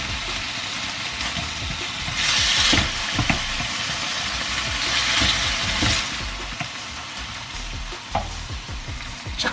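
Pork stir-fried in a pan for pinakbet, with a steady close sizzle and repeated scraping stirs of a utensil against the pan, swelling in brief louder bursts, no talk.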